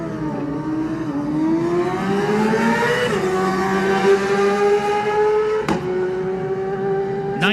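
A Yamaha race motorcycle in the Classic TT Junior race on the Manx Grand Prix road course screams past, its high engine note climbing and holding loud over several seconds. Two sharp cracks break through near the end.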